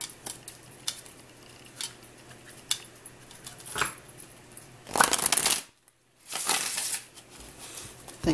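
Tarot cards shuffled in a quiet room during a Samhain ritual reading: a few soft riffling bursts, one louder flurry of flicking card edges, then a brief pause before another shuffle.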